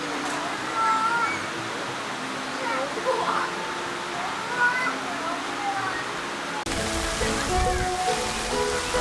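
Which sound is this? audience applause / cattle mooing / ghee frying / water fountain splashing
water fountain splashing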